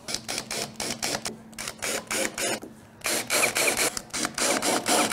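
A drill with a 1/8 inch bit bores a pilot hole into a wooden ski for a shotski, heard as close, loud, rapid chattering bursts of whirring that start and stop repeatedly, with no talking.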